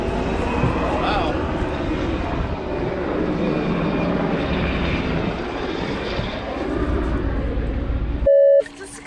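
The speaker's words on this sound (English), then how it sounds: "And if you like helicopters, listen." A helicopter flies over an RV campsite, a loud continuous engine and rotor roar with a slowly shifting pitch, close overhead, with voices talking over it before a short electronic beep at the end.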